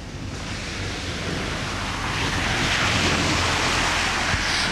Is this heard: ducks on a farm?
no